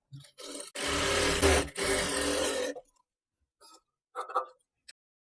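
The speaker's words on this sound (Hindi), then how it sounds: "तो ये जो हमारा पेपर पेस्टिंग है दोस्तों, तो ये आयरन वाला नहीं है, तो इसमें मैं सिलाई लगा रही हूँ।" A sewing machine stitches fabric onto paper pasting in two loud, close runs of rapid mechanical whirring, then stops, leaving a few faint clicks and a short burst of handling noise.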